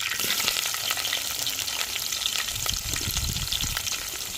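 Onion and curry leaves frying in a pan with fenugreek seeds, a loud steady sizzle with crackling pops and occasional stirring, close by and without talk.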